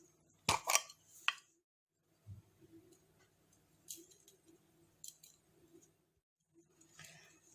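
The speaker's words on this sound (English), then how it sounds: "Let's mix it really well." A spoon clinks and scrapes against a bowl while butter, chili flakes and mixed herbs are stirred into a cheese garlic donut filling. The sharp clatters are scattered, with quieter taps and pauses between them.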